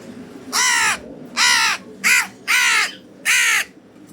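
A growing young crow gives five loud, harsh caws close by in quick succession, each call short and evenly spaced, heard alone without talk.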